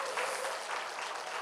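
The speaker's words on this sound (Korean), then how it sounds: "박수 한번 주시면 감사하겠습니다" An audience applauds youth performers before a musical production, a dense, even burst of many hands clapping, moderately loud and without a break.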